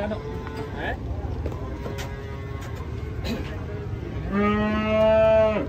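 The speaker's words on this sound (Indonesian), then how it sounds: "Datang sapi raksasa guys." A cow moos loudly and long near the end, after a stretch of background chatter and farmyard noise.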